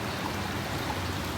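The Chattahoochee River in Helen, Georgia, flows as a steady, fairly quiet broadband rush of water. It continues evenly throughout with no voices.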